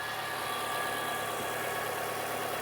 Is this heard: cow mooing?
no